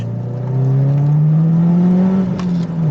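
A Subaru Impreza WRX STi Widetrack Spec C Type RA engine revs during heel-and-toe downshifts on a road, a loud, close, droning hum from inside the car that swells and falls smoothly.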